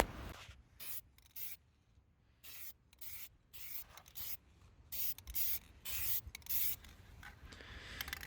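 Spray paint hisses in short, regular bursts as a first coat goes onto a Jeep XJ winch bumper, each spray pass close and distinct with quiet pauses between them.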